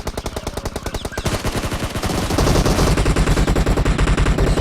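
Rapid automatic gunfire from a PUBG battle royale match, loud and sustained bursts of evenly spaced shots that grow denser and heavier partway through, with no voices over them.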